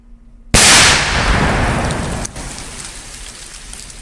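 A 5 kg IED set off in a controlled detonation in a Jharkhand forest, heard as one sudden heavy blast followed by a long, roaring broadband rumble that slowly fades into noise.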